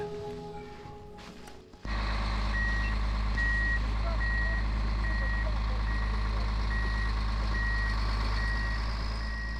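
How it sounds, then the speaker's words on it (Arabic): A snowcat's engine starts up and settles into a loud, steady low roar on a cold night at high altitude, with a regular reversing beep repeating over the drone. "أخذتنا شاحنة قطة الثلج في الليل الدامس البارد، لا نرى سوى النجوم ولا نسمع إلا لصوت محركها"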